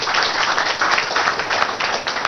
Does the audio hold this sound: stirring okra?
no